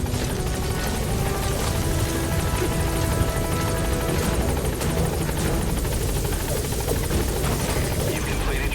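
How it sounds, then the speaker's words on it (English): The support helicopter from Metal Gear Solid V hovers nearby with a loud, steady rotor thump and engine whine that fills the whole stretch without a break. "Support helicopter has arrived."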